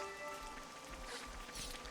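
Rain falling in the video game Xenoblade Chronicles 3, a soft steady hiss of drops on the ground with a faint low background hum, quiet and uninterrupted.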